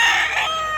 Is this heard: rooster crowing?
yes